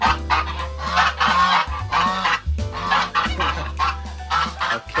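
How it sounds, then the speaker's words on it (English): Geese and ducks on a farm at night honk and cluck in loud, close bursts with short gaps between them, and a low steady hum runs underneath. "All the goose, ducks,"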